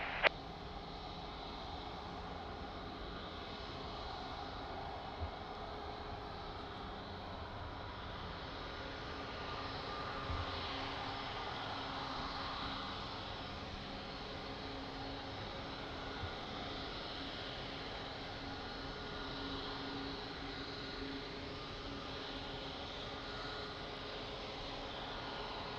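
A distant airliner approaching to land on runway 02 at Lisbon Airport gives a steady, moderate engine roar that holds for the whole stretch against a constant background hum, with no talk.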